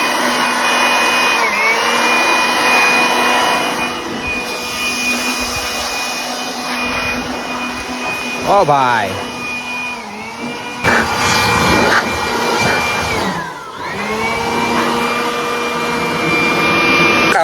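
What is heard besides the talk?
compressed air blowing dust off a tractor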